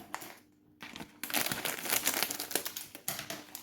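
A tea packet is torn open, its wrapper crinkling and crackling close up in a quiet pause followed by a burst of busy rustling.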